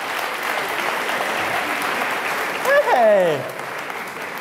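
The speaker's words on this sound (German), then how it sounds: "ihr dürft ihn nochmal klatschen" Audience at a talk on body language and improvisation gives steady applause throughout, with a single shout rising above the clapping near the end.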